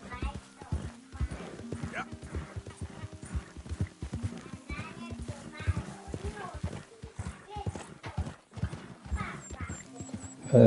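Rapid horse hoof clip-clops in the video game Red Dead Redemption 2 patter steadily on a hard surface, with a horse whinnying and a person talking over the footsteps.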